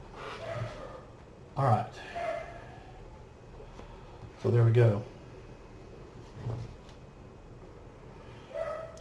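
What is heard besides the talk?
dogs barking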